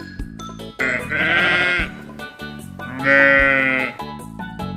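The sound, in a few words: sheep bleating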